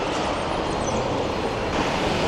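A train in Rio de Janeiro, Brazil gives off a steady, dense rumbling roar that stays loud and even throughout, with no voices.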